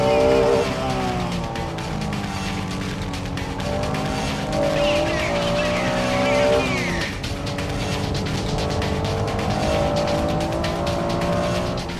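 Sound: race cars accelerating, Honda NSX-R, Mitsubishi GTO, Porsche 911 RSR

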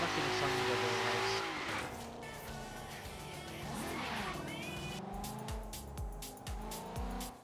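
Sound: race car driving in Forza Horizon 3 video game

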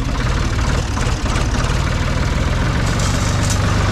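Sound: tractor engine running

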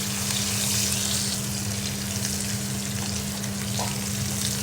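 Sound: tender ivy gourds frying in a pan

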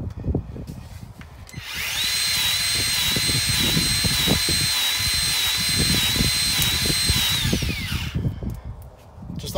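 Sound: grease gun lubricating truck driveline U-joints

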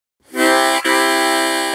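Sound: harmonica exhale chord, saying hoodoo

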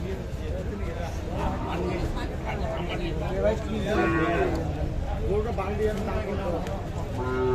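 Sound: cow mooing at a cattle market

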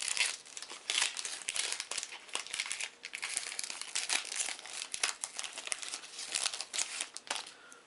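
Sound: tearing open plastic-wrapped trading card booster pack

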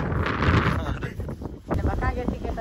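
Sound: wind blowing

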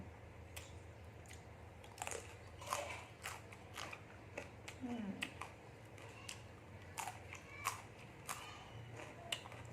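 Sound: eating khanom chin with chicken-feet jungle curry

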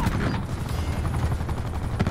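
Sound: helicopter in a video game

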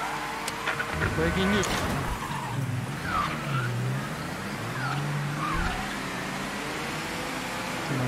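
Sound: car engine in video game Mafia III

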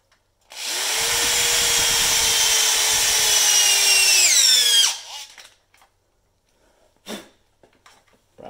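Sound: power drill drilling holes

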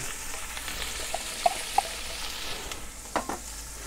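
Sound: onions frying in a cast-iron Dutch oven

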